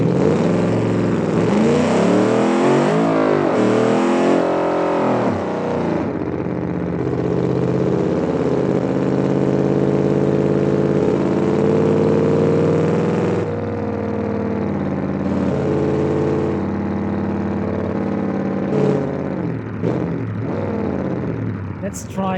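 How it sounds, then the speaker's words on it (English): A rally car engine in a video game drones steadily, revving with rising and falling pitch sweeps and settling into a steady idle-like hum, loud and continuous throughout. "I turned off the engine because it's too loud."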